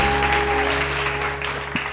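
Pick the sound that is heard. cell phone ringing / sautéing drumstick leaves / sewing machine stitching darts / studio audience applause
studio audience applause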